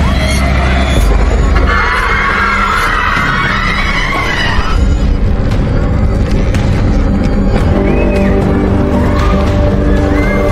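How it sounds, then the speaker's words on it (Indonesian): Students scream hysterically and run in panic as they flee an event, a loud, dense wash of crowd shrieks and shouting with bangs and scuffling mixed in. "para siswa berteriak histeris dan berlari berhamburan meninggalkan tempat acara"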